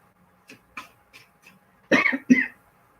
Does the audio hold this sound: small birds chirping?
no